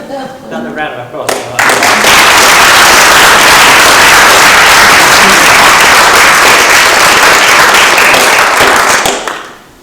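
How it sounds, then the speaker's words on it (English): Loud, sustained audience applause in a conference hall that swells quickly after a brief bit of talk, holds strong for several seconds, then fades at the end. "Another round of applause."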